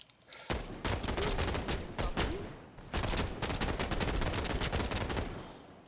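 Automatic gunfire in FF7: First Soldier, rapid repeated shots in long sustained bursts with a couple of short pauses, loud and close, no talk over it.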